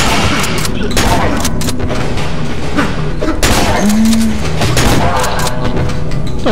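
Shotgun blasts in the Half-Life mod Cry of Fear, several booming shots in a loose, irregular volley, loud and up front with voices talking over the gunfire.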